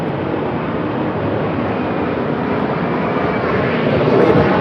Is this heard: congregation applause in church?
no